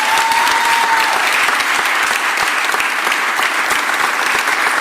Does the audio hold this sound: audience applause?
yes